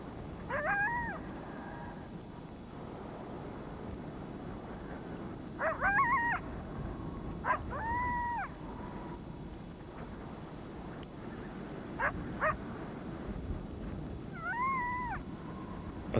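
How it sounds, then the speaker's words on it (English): A great horned owl calls at night over open marsh water, several short wavering hoots and cries spaced across a steady low background hum. "The great horned owl, fiend of the night"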